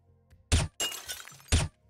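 A glass window shatters in Hotline Miami 2: Wrong Number, with a sharp crash followed by a spray of falling shards and a second crash near the end, loud against near silence.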